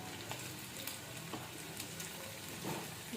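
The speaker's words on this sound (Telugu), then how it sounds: "ఇది ఆయిల్ వేడెక్కిపోయింది వెల్లిగడ్డ ఎల్లుల్లిపాయలు వేసుకున్నా చూడండి" A faint, even sizzle of garlic cloves frying in hot oil, with small crackles and pops scattered through the soft hiss and no talking.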